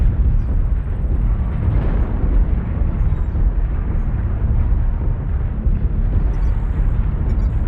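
SRM-6 short-range missiles launching in MechWarrior Online, a loud, dense, continuous roaring blast of rocket fire and explosions.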